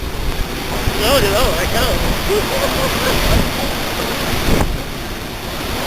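Roaring rush of Niagara Falls heard from a tour boat, broadband water and wind noise filling the scene with a person exclaiming over it.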